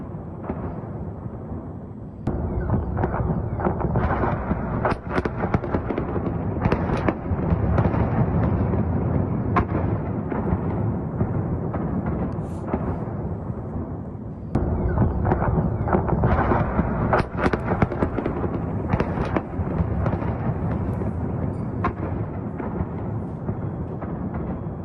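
Loud, continuous barrage of gunfire and blasts over Kyiv during Russian attacks, a dense rumbling roar broken by many sharp cracks and bangs that carry on for the whole stretch.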